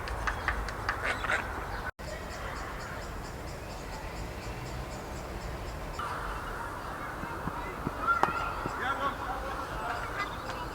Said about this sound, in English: ducks flying past, that's not a good sign.